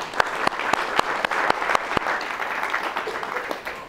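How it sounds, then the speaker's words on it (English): Audience applause at a university reunion memorial event, a moderate crowd clapping steadily with a few sharp, distinct claps standing out, continuous for a few seconds and fading slightly at the end. "this is more applause than Feynman ever got."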